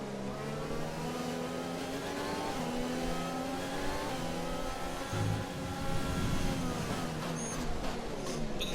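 Several Formula 1 race cars in the F1 2020 video game run wheel to wheel, their engines whining at high revs with rising and falling pitch, loud and continuous throughout.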